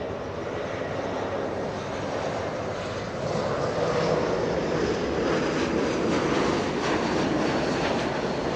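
A Delta Airbus A220 arriving from Portland, Oregon, lands at Los Angeles International Airport with a continuous engine roar that swells slightly partway through and stays loud to the end.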